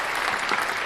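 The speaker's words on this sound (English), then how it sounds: "round of applause for you, man" An audience applauds after a performance in a podcast setting, a dense, steady burst of many hands clapping, close and even, with no voices standing out.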